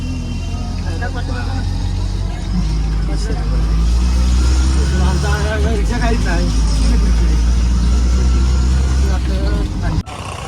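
Loud, steady engine drone of a shared auto rickshaw in motion in the Konkan during monsoon rain, with a rumbling low end and voices talking over it.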